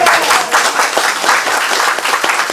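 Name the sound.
council meeting clapping for Sharon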